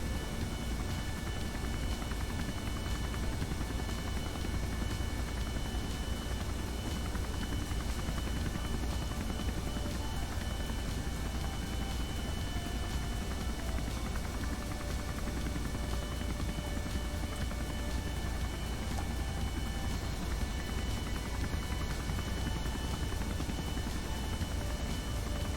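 A helicopter in the Kerbal Space Program video game drones on with a continuous whirring rotor and engine hum, steady and unbroken from start to finish, with no talk over it.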